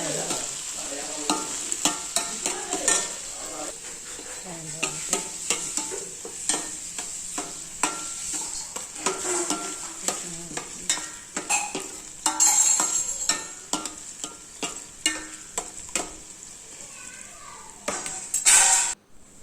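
A big stingray fish curry is stirred in a frying pan with garlic and ginger, a steady scraping sizzle with repeated spoon clinks against the metal, running continuously at close range with no talk.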